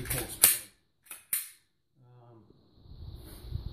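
Gunshots from a Glock 20 Gen 4 10mm pistol firing 180-grain rounds, three sharp cracks, the first loudest, followed by quiet outdoor ambience and faint background noise.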